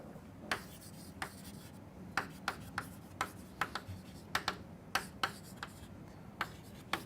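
Writing strokes during a lecture come as short, crisp scratches in irregular bursts, close and fairly quiet against a faint room background.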